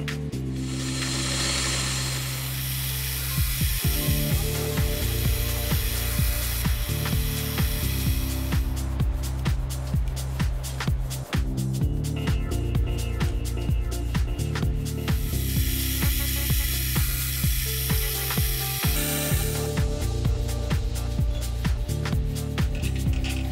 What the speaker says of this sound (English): then formed the holes and threads for the feet